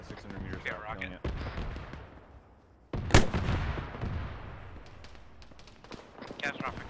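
A rocket launched at a BTR armored vehicle in ArmA 3 lets out one sharp, loud blast followed by a long rumbling tail. Voices on the radio talk before and after the shot.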